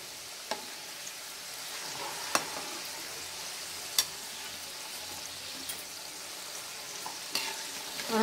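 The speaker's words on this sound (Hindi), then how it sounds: "बड़े ही सॉफ्ट हाथ से इसे हिलाएं।" Mawa is stirred gently in a pan over medium-low heat for gujia filling, making a soft continuous frying hiss with a few light scrapes and clicks from the spoon, quiet and close, with no talking.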